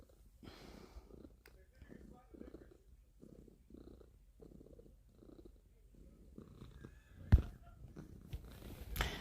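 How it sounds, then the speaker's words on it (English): A cat purring close by with a soft, rhythmic rumble of regular pulses, while a person talks quietly over it; a sharp rustle near the end. "She's purring."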